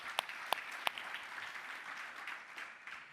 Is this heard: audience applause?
yes